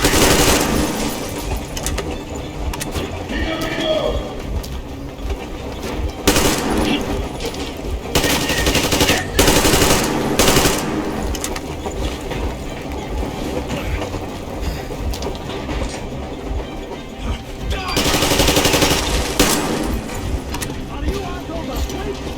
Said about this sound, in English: A bullet for each of you! I'm shooting you personally through your forehead